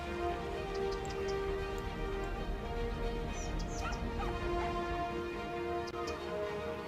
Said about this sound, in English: I can hear dogs barking and stuff.